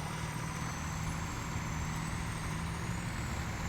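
A truck in the off-road driving game Spintires runs with a steady low engine drone and a continuous high air-brake hiss, heard close and unbroken throughout.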